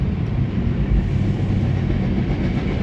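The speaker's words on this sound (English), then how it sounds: "And we're going to hear the train." A passing train rumbles steadily and loudly, a continuous close roar of rail cars rolling by with no talking.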